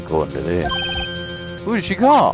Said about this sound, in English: I had a phone ring just now on one of those newfangled ring tubes.